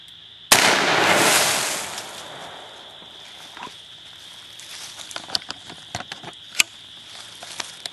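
.44 Magnum double-action revolver firing a single Hornady soft-point round: one loud sharp blast followed by a brief decaying rumble, then faint scattered clicks and small knocks.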